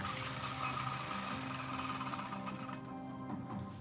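An HO scale model train engine runs just nearby, a steady buzzing motor whir with rattling, moderately loud and continuous, with no voices.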